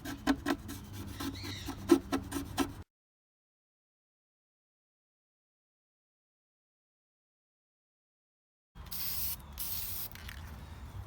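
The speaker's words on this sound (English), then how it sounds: "I'm using some leftover Rust-Oleum hammer spray just to give these a light coat" Short hissing bursts of Rust-Oleum hammer spray paint put a light coat on parts for a Ford E150 van window repair, a few seconds of close spraying, then silence, then another brief spray.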